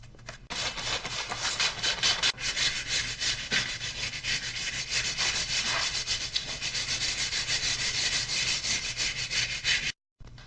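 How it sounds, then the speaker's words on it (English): Primer on a car part being hand sanded with 600 grit sandpaper: a close, continuous, loud rasping rub in quick back-and-forth strokes that runs almost without pause for about ten seconds, then stops abruptly. "I'm going to sand it with 600 grit sandpaper"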